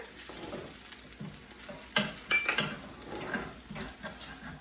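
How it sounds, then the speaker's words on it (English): A spoon stirs hoisin sauce through leftover fried rice in a hot pan, giving a soft, steady sizzle with scraping strokes and a few light metallic clinks against the pan, quiet and close. "So he's going to now mix all that together."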